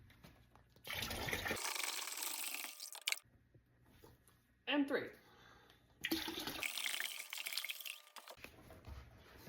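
Cool and warm water is poured from jugs into a container for tanning rabbit hides, three long gushing, splashing pours separated by pauses, while a person speaks briefly between them.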